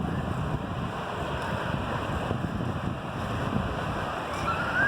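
Sea waves crash on the shore at Gadani Beach in Balochistan, a steady broad rush of surf mixed with wind noise, continuous and fairly loud with no clear breaks.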